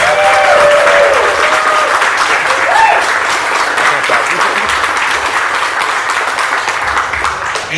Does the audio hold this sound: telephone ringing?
no